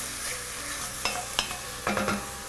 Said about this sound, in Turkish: Şimdi etlerim kavruluyor.